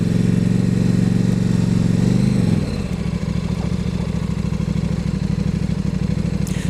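A bright orange KTM RC8 motorcycle runs close by with a loud, steady engine. The tone drops partway through and then settles into a lower, rhythmic, throbbing idle.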